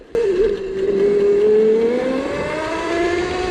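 Electric 72V pit bike accelerating hard, its motor whine rising steadily in pitch as it pulls away, loud and close throughout with no talk over it.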